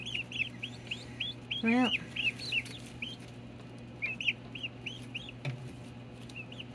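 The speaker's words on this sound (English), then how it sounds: "Good night, baby turkey chicks." Baby turkey chicks (poults) chirp in repeated high, quick peeps against a steady hum, with one louder rising call near the middle and a brief word from a voice nearby.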